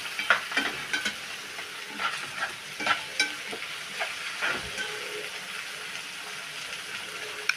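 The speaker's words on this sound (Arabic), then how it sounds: "كده حطيت الكبده بعد ما التانيين خدوا التشويحه كويسه وهما مستويين من الاول." Chicken liver and giblets sizzle in a hot pan while being stir-fried, a steady hiss broken by repeated scraping clicks of the stirring utensil.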